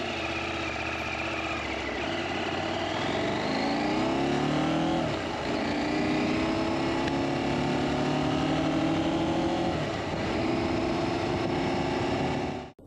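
Motorcycle ridden on the road, a continuous engine drone with shifting pitch as it accelerates and changes gear, loud and close with wind rush throughout, ending abruptly.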